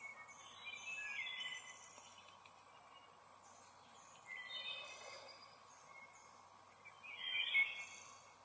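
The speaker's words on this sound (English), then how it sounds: "Hear the birds" Birds sing in a quiet yard at a distance, giving faint chirping and warbling phrases in three soft bursts over a low background hum.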